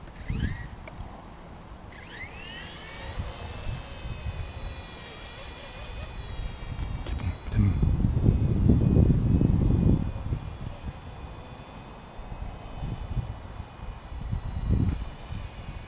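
An Esky 150 X micro RC helicopter flies outdoors in wind, giving a thin, high-pitched whine from its small rotor and motor that shifts in pitch, with louder gusts and rumbling wind noise partly covering it.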